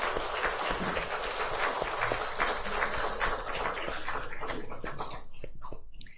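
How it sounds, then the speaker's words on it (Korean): A church congregation applauds the choir during a Sunday service, dense steady clapping filling most of the stretch before thinning out and fading near the end. "우리 성가대에 다시 한번 감사의 박수하겠습니다."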